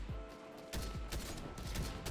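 Submachine gun firing in a shooter video game, a rapid burst of several sharp shots over about two seconds, loud and close with no talk.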